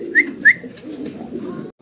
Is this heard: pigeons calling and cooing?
yes